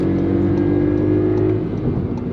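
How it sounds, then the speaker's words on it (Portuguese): A 2023 Volkswagen Polo TSI with a manual gearbox accelerates hard in second gear on a busy road, a steady loud engine drone heard from inside the car with a faint whine above it. "Segunda marcha, pé no fundo."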